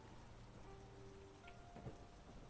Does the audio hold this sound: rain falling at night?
yes